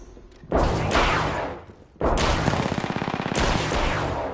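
Apex Legends gunfight: two loud, close bursts of automatic fire, the second a long rapid string of evenly spaced shots, separated by a short lull over constant battlefield background.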